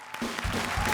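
Studio audience applause on a Hindi TV comedy show, a dense wash of clapping that swells after a brief quiet start and stays loud and steady to the end.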